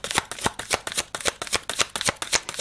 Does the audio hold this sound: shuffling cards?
yes